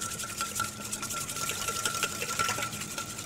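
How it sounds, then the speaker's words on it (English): A whisk beats olive oil into a vinaigrette of salt and black pepper in a fast, even rhythm of close clicking and sloshing strokes, with no voices. "we're just going to whisk in our olive oil"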